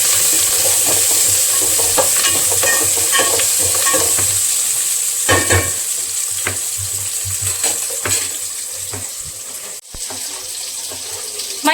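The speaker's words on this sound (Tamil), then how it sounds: "அம்மா கிண்டி விடுங்க." Food sizzles steadily in a pan while a utensil stirs it, with repeated scraping and clatter over a constant loud frying hiss; a brief tap-like clunk comes near the end.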